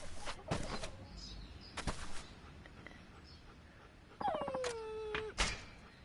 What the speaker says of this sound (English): But I can't like ignore the dogs.